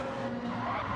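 Race car tyres slide and squeal through a corner at Catalunya in a GT1 racing video game, a brief screech over a steady engine drone.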